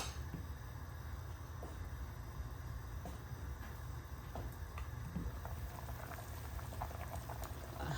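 Chicken breast and cauliflower curry with potatoes bubbling steadily in a pot, a continuous low simmering rumble with occasional soft pops, close and even throughout.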